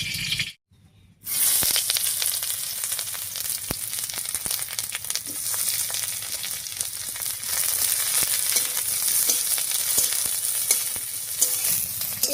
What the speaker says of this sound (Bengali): পেঁয়াজ আর কাঁচা লঙ্কাটা দিয়ে একটু ভাজা ভাজা মতো করে নিয়েছি